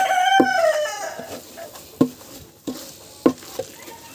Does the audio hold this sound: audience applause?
no